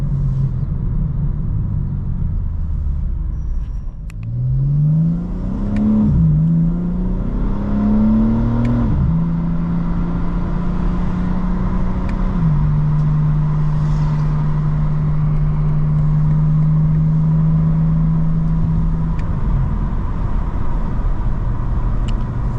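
A 2025 BMW M4 CS engine revs up through several rising pitch sweeps, then holds a steady high drone before dropping back, loud and close over a constant low rumble, with no talking.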